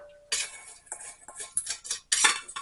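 Spam sandwich ingredients mixed in a bowl with a metal utensil, a close series of loud clinking and scraping strokes in an uneven rhythm.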